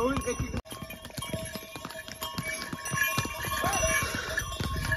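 Horse hooves clip-clopping on a steep mountain trail up to Tungnath temple, a steady run of close, uneven hoof knocks with light bell jingles, under ongoing voices of people talking.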